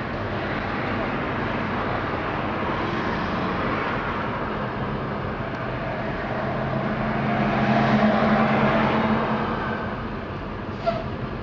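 An old car that has sat unused is running, its engine rumbling and swelling into a louder drive-away, with a steady broadband roar and people talking nearby.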